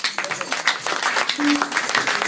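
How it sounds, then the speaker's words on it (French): A church congregation applauds in acclamation during a worship service in France, with a dense, lively burst of clapping and some crowd voices mixed in. "on acclame Dieu"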